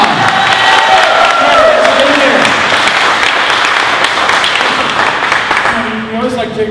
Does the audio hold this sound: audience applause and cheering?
yes